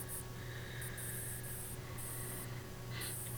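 Spray can hissing red paint with pearl flakes onto a diecast Hot Wheels Monster Jam toy truck, in short close bursts with a steady hiss between them.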